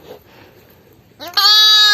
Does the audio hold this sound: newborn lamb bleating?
yes